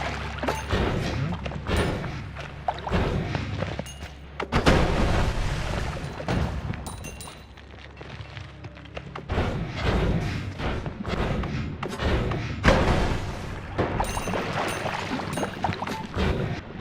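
Explosives and fireworks in the game Noita set off a dense, continuous barrage of blasts, crackles and thuds. A brief lull comes partway through, then the bursts pick up again, loud and close.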